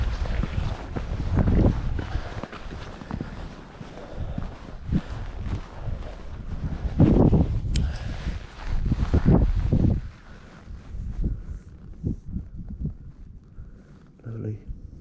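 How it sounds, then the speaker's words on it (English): Fresh wind gusting across the exposed Gower coast on a walk out to Worms Head, a loud continuous roar buffeting the microphone with surges and lulls, a voice speaking beneath it. "Wind's a bit fresh today, but it's a good day."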